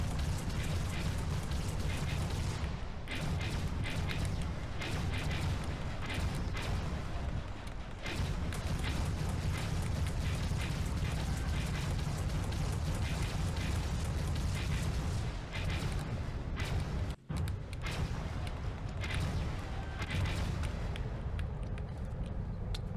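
Spaceship turrets firing in Starfield on a cargo warship, a dense, continuous stream of booming bursts and mechanical rattle that stays loud and steady throughout, with one brief dropout near the end.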